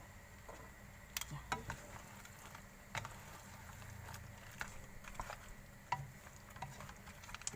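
Quiet stir-frying of seafood in a small pan: a faint sizzle under repeated scraping and clicking of a spatula, in an irregular rhythm.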